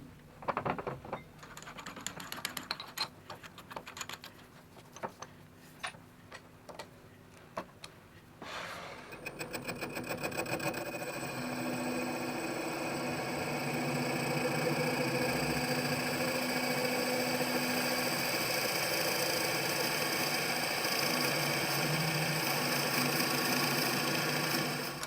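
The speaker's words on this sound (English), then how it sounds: "it's time to drill a big hole." Drilling a big hole into a wood-turned piece: scattered clicks and taps first, then a drill starts up and grinds steadily on, loud and continuous.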